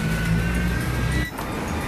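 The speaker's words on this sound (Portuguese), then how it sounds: "E é assim, ó, o tanto de motos." Busy street traffic in central Juazeiro do Norte, motorcycles crowding the road, a close steady engine drone that drops off briefly near the end.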